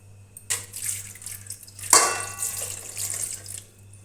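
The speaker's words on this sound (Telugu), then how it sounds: "దీంట్లోకి వాటర్ వేసుకుందామండి" Water pours from a tap into a large cooking pot with a stand inside, set up for making junnu (milk pudding), a steady splashing stream that swells midway, close and alone.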